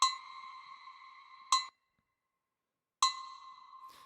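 A pinging tonal sample plays through the Dark Hall preset of Ableton Live Suite's Hybrid Reverb. Four bright struck hits come at even intervals, each with a shimmering tail; one tail stops abruptly, leaving silence before the next.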